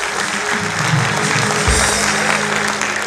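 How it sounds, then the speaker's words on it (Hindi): Applause from a seated audience at a Hindi spiritual talk by Baba Satyanarayan Maurya, a dense steady wash of clapping lasting about three seconds, with a low thump partway through. "बजा तालियां"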